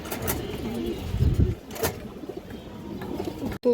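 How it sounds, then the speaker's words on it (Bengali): Pigeons cooing close by at a bird seller's, a few soft low coos rising from a quiet room murmur, with a couple of brief wingbeat or handling noises and a click near the end. "কবুতরটা এই দেখেন"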